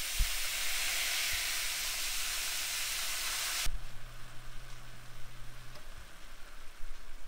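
Broad, bright sizzle of meat frying in a pan that cuts off abruptly, leaving a low hum with a few soft clanks.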